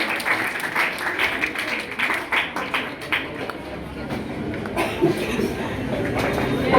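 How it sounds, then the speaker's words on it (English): Students and staff at a school inter-house science quiz competition give a round of applause, a moderate burst of scattered clapping in a busy hall with voices mixed in. "Please give a big hand of applause."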